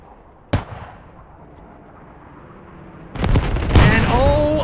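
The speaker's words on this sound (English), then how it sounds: "Airstrike coming in." An airstrike in the military shooter game Squad: a sharp single blast comes early, then a cluster of louder, heavier explosions rolls in near the end over a low steady background.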